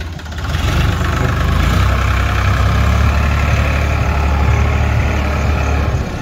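A tractor engine runs during soybean sowing, a loud, close, steady low rumble with a rough mid-range chug that holds constant throughout.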